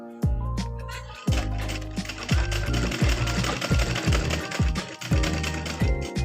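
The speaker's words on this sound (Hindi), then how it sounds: "यहाँ सिलाई पट्टी कर लेते हैं।" A sewing machine stitches a fabric strip in loud, fast, rhythmic bursts with short pauses between runs, heard up close.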